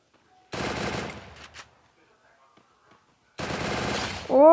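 Automatic gunfire from a Free Fire mobile battle game: two sustained bursts of rapid shots, the first about three seconds long, a quiet gap, then a second burst ending with a rising whine.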